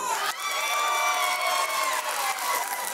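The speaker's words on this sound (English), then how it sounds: "Clap if you want him to go with number four." A comedy club crowd cheers, whoops and shouts loudly during a crowd-work stand-up set, a dense continuous roar with scattered claps that stays strong for the whole few seconds.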